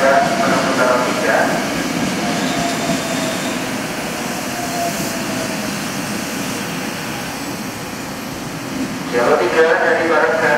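A train runs straight through a station on track 3 without stopping, a steady loud rolling rumble sustained throughout, with station announcements heard over it at the start and end.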